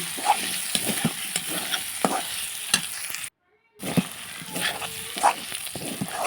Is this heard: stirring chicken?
yes